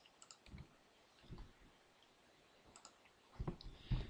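Mouse clicks and a key press while drawing in CAD software, a few sharp, close clicks spaced apart with quiet gaps between.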